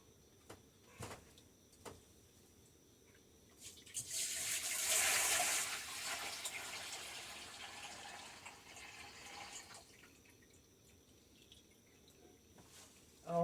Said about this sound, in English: I have a bigger pot over here that I am going to pour this in.